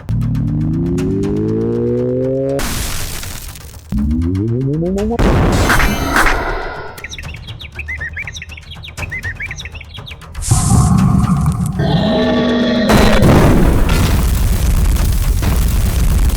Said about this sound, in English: Let's use this Electro Blaster 3000 and see if we can get Plankto to leave.